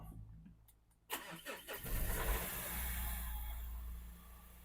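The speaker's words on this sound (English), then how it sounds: "now I'm going to start the car" Mazda CX-5 diesel engine cranking and catching after a moment of quiet, then settling into a steady, loud diesel idle close by.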